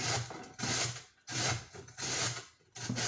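Raw vegetables for coleslaw rasped firmly down a kitchen grater in four long, loud strokes with brief pauses between, each stroke a broad scraping rub.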